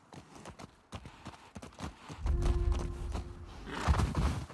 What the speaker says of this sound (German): Gutes Pferd.